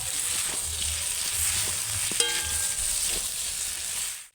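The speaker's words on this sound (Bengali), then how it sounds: "দেখুন এখানে আমি আলুর সঙ্গে মশলাটা এইভাবে ভেজে নিচ্ছি" Spices fry with potatoes in a pan, making a steady, close sizzle with some scraping as they are stirred, and no talking over it.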